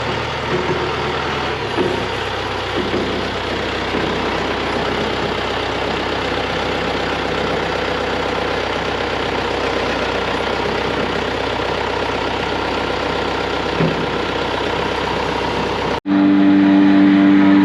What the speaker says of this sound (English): So yes, that is the blower.